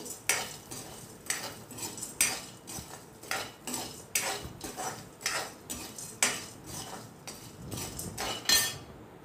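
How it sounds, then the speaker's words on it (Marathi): Vadis frying in oil in a pan, with a rhythmic run of metal spatula scrapes and clinks about once a second over a light sizzle, close and moderately loud. "असे थोडेसे आपल्याला भाजून घ्यायचे आहे तेलामध्ये"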